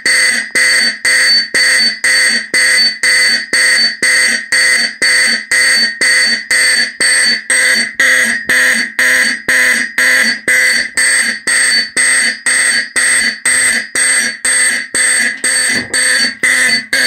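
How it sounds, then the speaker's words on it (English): A Simplex 4051 fire alarm horn sounds in a mini test system alongside a Faraday 5501 after the smoke detector is activated, pulsing loudly and steadily in a fast repeating march-time pattern, close and alone, with no talking. "now we're going to go ahead and activate the smoke detector"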